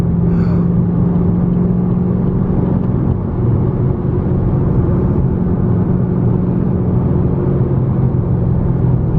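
A Chevrolet Camaro Z28 with an LS7 V8, a rare example weighing about 1800 kg, cruises with a steady, loud, deep engine drone and road rumble throughout, with no talk.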